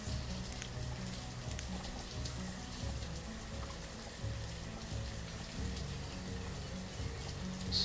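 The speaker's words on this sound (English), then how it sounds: "Good lord, it's a rainy fall." Steady rain falls in the medieval town-building video game Banished, an even, continuous patter of drops throughout, with no pauses or voices.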